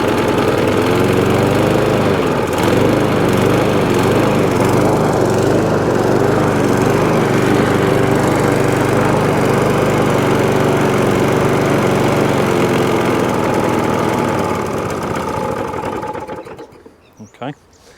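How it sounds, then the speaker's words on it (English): A Mountfield Empress lawn mower engine, long unused, runs loud and steady at close range with a continuous rough buzzing drone, then cuts out near the end. "Let me just give it a bit of a 2-minute run and see how it gets on."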